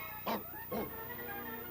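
A shepherd's dog in a 1986 animated Aesop's fable gives two sharp, close barks about half a second apart, followed by a quiet background hum.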